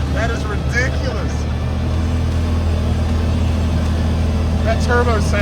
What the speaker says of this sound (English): That turbo sounds so sick.